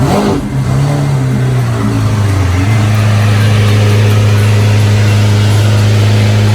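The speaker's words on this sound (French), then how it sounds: "ça relève un peu le niveau, l'Aventador SV qui arrive" A loud Lamborghini Aventador SV engine roars close by as it arrives at a supercar meet, with a rising rev that settles into a steady, powerful drone throughout.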